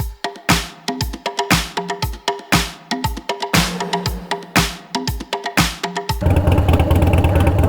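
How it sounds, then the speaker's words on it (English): A Harley-Davidson Dyna motorcycle engine warming up, with loud, loping, uneven idle pulses thudding steadily before breaking into a continuous rough rumble near the end. "I'm gonna go ahead and let my bike run for about 5 minutes"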